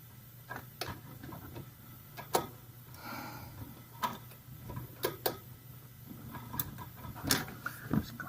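An adjustable ratcheting wrench clicks in short irregular bursts against a 2003 Ford Ranger front shock top cap, close and quiet, with sharp ticks spaced by brief pauses.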